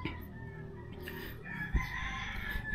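A rooster crows on a morning in Manila's Binondo district, a drawn-out crow rising from a modest distance over a constant murmur of background noise, with a brief thump partway through.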